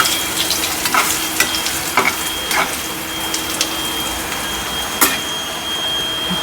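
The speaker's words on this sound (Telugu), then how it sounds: "మళ్ళీ నూనెలో వేయించి లైట్గా ఫ్రై చేసుకొని" Sliced bitter gourd fries in oil, giving a steady close sizzle and crackle with scattered sharper pops throughout, and no talking.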